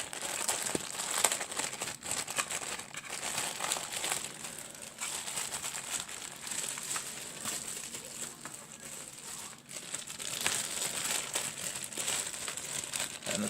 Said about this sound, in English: So let's unwrap real fast.